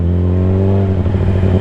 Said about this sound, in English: Rev it, rev it.